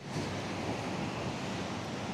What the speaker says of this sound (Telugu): సో ఈ డెడ్ క్యాట్ పెట్టాలి ఎందుకంటే విండ్ చాలా ఎక్కువగా ఉంది.